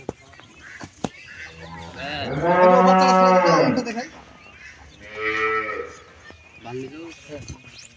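A dairy cow in a farm shed moos loudly and close, two long drawn-out calls with a shorter low call trailing off at the end, over faint background noise.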